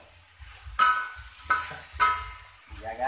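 Mustard cabbage (sawi kol) frying and sizzling in a hot pan while chicken is cooked with coconut milk, a steady broadband hiss broken by three sharp bursts as the greens are stirred, close and loud with no talk.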